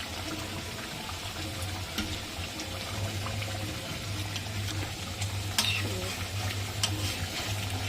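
Paneer gravy stirred in a kadai makes steady scraping and soft frying sizzle over a low background hum, with occasional clinks of the spoon against the pan, and no voices.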